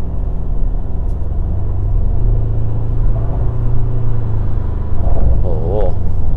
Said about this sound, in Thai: เดี๋ยวจะตรงขึ้นถนนเส้นทางตรงๆยาวๆนะครับเดี๋ยวจะลองความเร็วเขาหน่อย